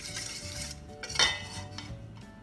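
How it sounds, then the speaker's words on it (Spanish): A shrimp cocktail mixture with Sprite is stirred in a bowl, with faint scraping and a single brighter clink of a utensil against the dish partway through, quiet and close under a low background hum. "vamos a revolver bien esto"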